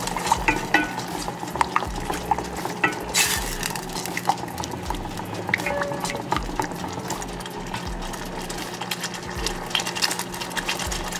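A spoon stirs a sauce mixture containing Dijon mustard for barbecue pork chops, giving steady close scraping and soft clinks against the bowl for the whole stretch, with a low background hum.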